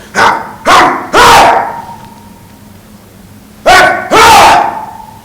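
A person imitates a dog barking during a high school speech performance, giving five sharp, loud barks in two bursts with a short pause between them.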